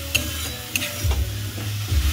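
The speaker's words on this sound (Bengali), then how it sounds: "এখানে হালকা করে নাড়তে থাকতে হবে" Amla simmers in melted jaggery as a spoon stirs it, with a couple of bright metallic taps and a low bubbling, scraping churn, close and alone without speech.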